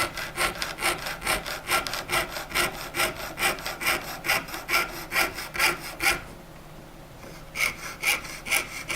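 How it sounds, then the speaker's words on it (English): A jeweler's saw cuts through metal along a marked line in quick regular rasping strokes, about two per second, with a short pause before the strokes resume, close and clear. "So as long as I am moving my saw blade, I can slowly turn and follow curves."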